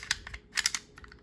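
A Beretta 20X pistol with a slide that fails to latch into the frame is handled, giving a few quick light metallic clicks and taps, close and faint.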